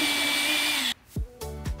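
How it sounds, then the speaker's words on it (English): A small power drill whirs steadily while boring a tiny hole in a plastic water-rocket nose cone, then stops, followed by a few short spin-down whirs. "Drill a tiny hole 1/2 inch from the bottom edge of the StratoCone."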